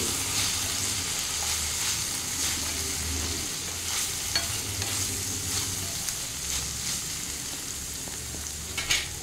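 Ridge gourd cooks in a covered pan, keeping up a steady close sizzle and frying crackle with occasional soft scrapes as it is stirred, with no voices.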